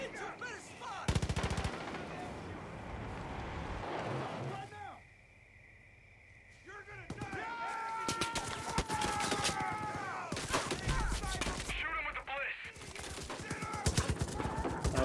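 Rapid automatic gunfire from bliss bullets in Far Cry 5, loud bursts and sustained volleys with a brief lull in the middle, interspersed with game effects and voices speaking over the shots.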